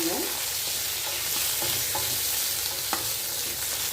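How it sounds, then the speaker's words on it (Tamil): Whole cherry tomatoes sautéing in oil in a pan for sambar give a steady close sizzle, with occasional soft pops and light spoon stirring throughout and no talking. "இது நல்லா ஓரளவு வதங்கி வரட்டும் முழு முழு பழமாக இருந்தால் ரொம்ப நல்லாயிருக்கும்"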